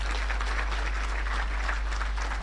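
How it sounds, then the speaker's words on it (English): An audience at the launch of icipe's vision and strategy applauds distinguished guests with steady, even clapping at moderate distance over a strong low electrical hum. "Ladies and gentlemen, may we appreciate them with a round of applause."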